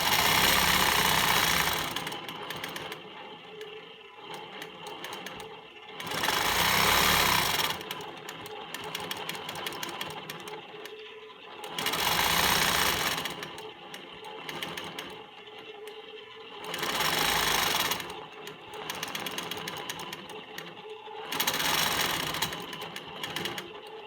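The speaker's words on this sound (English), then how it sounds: "I'm just going to follow this angle and quilt 1/4 inch straight lines on the yellow pieces" A longarm quilting machine stitches straight quarter-inch lines across yellow pieces of a quilt panel in loud, steady bursts of a few seconds each, separated by quieter pauses, with no talk.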